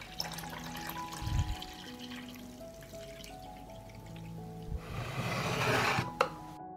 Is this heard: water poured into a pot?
yes